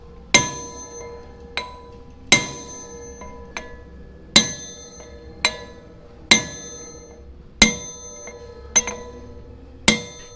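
Sharp metallic strikes ring out about every second, ten or so heavy sledgehammer blows on metal cone washers during restoration of an old combat tank, with bright clinking decay, close by and no talking.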